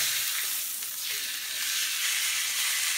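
Steak sizzling steadily in a hot pan just after being flipped, a continuous bright hiss that stays loud and close throughout with no voices.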